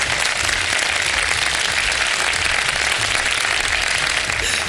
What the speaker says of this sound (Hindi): देखिए भरपूर तालियां बजाइए।